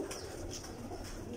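Soft, low coos of pet pigeons from a cross-bred pair repeating faintly in the background, with a light airy hiss around them.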